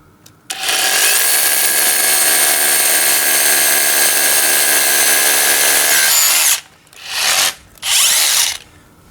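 An Einhell HEROCCO 18 cordless rotary hammer drills for about six seconds with a loud, steady whine and hammering buzz. Two shorter bursts follow after brief pauses, with no talking.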